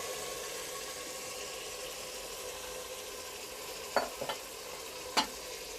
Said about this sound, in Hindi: टमाटर हमारे हल्के से सॉफ्ट हो चुके हैं, इसके अंदर अब हम ऐड कर देंगे चिकन।